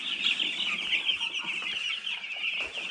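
Busy chirping and peeping from a group of broiler chicks in a brooder under red heat lamps, steady and continuous, with soft clucking mixed in, fairly close.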